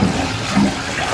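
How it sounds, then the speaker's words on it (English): Water pours steadily while a pet monkey is rinsed off in a bubble bath, a close, loud, continuous splashing rush lasting about a second, with no talking. "Let's rinse him off real quick."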